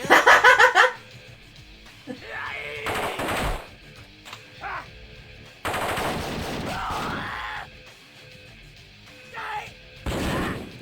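A DOS full-motion-video game opens with a loud burst of rapid machine-gun fire, followed by quieter sporadic crashes and bursts and a little laughter and chatter.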